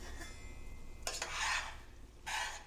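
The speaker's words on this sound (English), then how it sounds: "This is the sound of pasta." Pasta being stirred through a spicy sauce with lemon juice and pepper flakes in a pan, giving two bursts of wet scraping and slapping against a quiet kitchen background, close and moderately loud.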